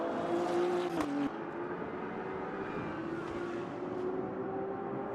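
Racing cars circle a track during a season-finale race, a steady far engine drone with a pitch shift and a faint whoosh near the start, continuous and moderately loud with no talking.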